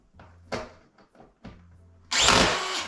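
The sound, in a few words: power drill driving screws into plasterboard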